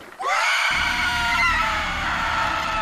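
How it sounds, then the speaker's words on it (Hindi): A frightening woman's scream as a horror sound effect, shrill and sustained for over two seconds, loud and alone. "और एक डरावनी औरत की चीख सुनाई दी।"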